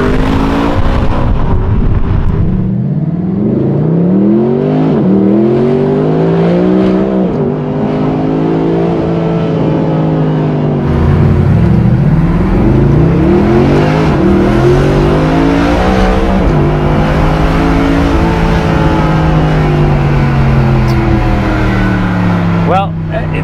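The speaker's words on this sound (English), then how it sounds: "I love the way titanium exhaust sounds, so hopefully we can pick that up in the video." Mercedes-Benz AMG with a naturally aspirated engine and titanium exhaust revs repeatedly, its loud, rising and falling engine note sweeping up and down in steady waves, close and continuous throughout.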